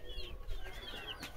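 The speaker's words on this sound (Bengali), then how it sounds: "এই মুরগি সব" Chickens at a Ranchi-breed chicken farm in a village give a few soft, brief clucks, faint and close together.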